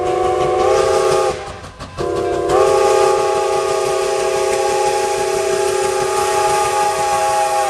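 Steam locomotive 765 sounds a chime whistle borrowed from New York Central Mohawk 3001, a loud, close, sustained multi-note blast that cuts off briefly and then resumes for a long held tone.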